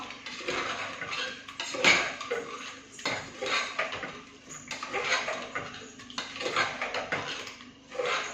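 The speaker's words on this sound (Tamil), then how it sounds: "கிண்டிடலாம். எல்லாம் ஒண்ணா மிக்ஸ் ஆகி வரட்டும்." A pot of biryani mixture with added yogurt being stirred, giving repeated scraping and clinking of a metal spoon against the vessel in uneven bursts, close and moderately loud with no talking.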